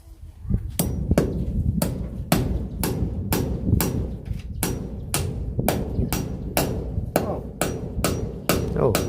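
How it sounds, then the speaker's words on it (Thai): Hammering while installing a solar light: about fifteen sharp, evenly spaced blows ring out loud and close, each strike followed by a brief ringing decay. "เดี๋ยวพ่อตอก"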